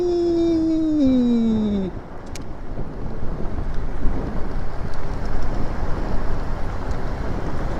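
Wind buffets the microphone in a steady, rough roar while riding a Windone S14 folding electric city commuter bike. A brief falling whine opens the ride before the wind noise takes over.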